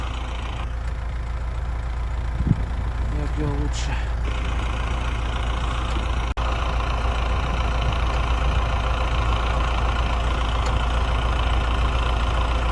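A tractor engine runs steadily while plowing a field, a loud, constant low rumble throughout, with a brief squeak and a click partway in.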